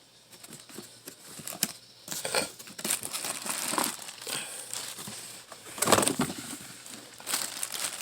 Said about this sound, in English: Take it out the plastic here